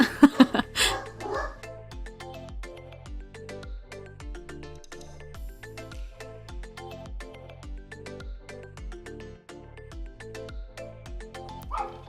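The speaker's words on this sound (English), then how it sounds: "oh, sorry, that's my dogs." Several dogs bark in rapid, regular bursts right near the microphone, a steady run of sharp yips and woofs filling the whole stretch after a brief loud scuffle at the start.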